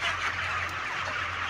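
Chickens being harvested at 28 days old on a poultry farm in Calinan District, Davao fill the air with a dense, continuous chorus of clucking and squawking over a low machine hum.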